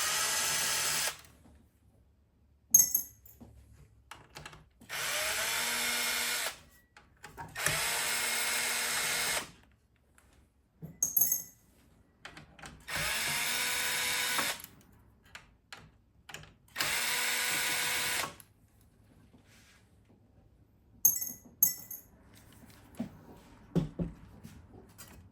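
Power drill backing screws out of a Teac Model 5 tape deck, in several separate high-pitched whining bursts of a few seconds each, split by quiet gaps with faint handling clicks.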